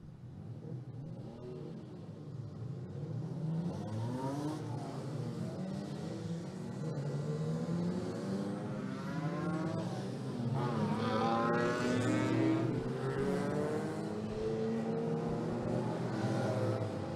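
Clubmans saloon race cars on a warm-up lap rev and accelerate at a distance, several engines rising and falling in pitch as they pass, continuous and moderately loud.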